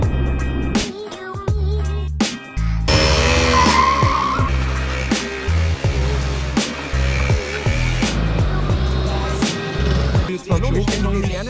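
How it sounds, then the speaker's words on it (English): KTM motorbike skidding and crashing during a freestyle photo shoot, loud engine revving with tire squeal and scraping in bursts, close and sustained over several seconds. "Crashing a bike, it's a job."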